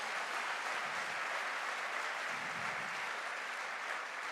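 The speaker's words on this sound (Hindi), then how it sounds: "ताली तो बनती है भाई आज मेरी बीवी के लिए" Broad applause from a seated audience at a direct selling motivational event, a steady hiss of many hands clapping at moderate level with no pauses or speech.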